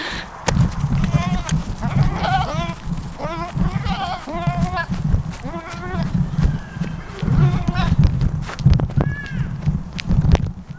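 On a Nova Scotia homestead, several goats being moved bleat repeatedly, close and loud, over a steady low rumble and shuffling movement.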